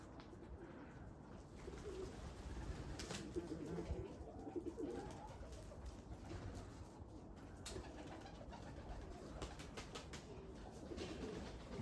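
Soft, low cooing of pigeons repeats throughout, with occasional wing flaps; faint and close-by, no talking.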